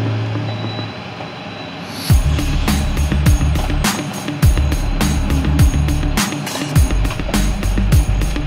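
An RV slide-out extends with a steady mechanical drone, punctuated by repeated low thumps and clunks every second or so as the room moves outward, fairly close and loud throughout.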